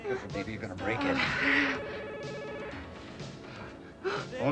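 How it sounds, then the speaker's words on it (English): A telephone rings under scene dialogue in a 1988 film, a steady electronic trill that stays moderately loud beneath the voices. "Phone's ringing."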